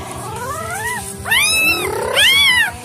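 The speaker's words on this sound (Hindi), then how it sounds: "ये बिल्ली है" A cat meows close by, three rising and falling cries over about three seconds, the later two louder and higher, with a faint background hum and no talk.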